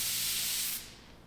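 An airbrush sprays black Cerakote coating onto a Warthog grip in a single loud, close hiss that cuts off abruptly, leaving faint room noise.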